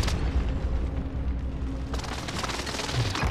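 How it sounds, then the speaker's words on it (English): Heavy booming blasts from a precision airstrike in Call of Duty: Modern Warfare, a dense rolling barrage of explosions that swells again midway, loud and close. "Enemy precision airstrike, stay alert!"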